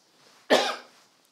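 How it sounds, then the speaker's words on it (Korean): A single short, sharp cough from one person, moderately close and standing alone in a quiet room during a sermon. "기침이 안 멈추네요, 그죠?"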